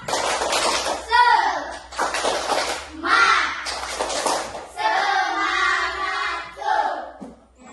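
Children in a classroom perform a rhythmic clapping chant, their voices and hand claps close and loud in repeated bursts, with some group chatter.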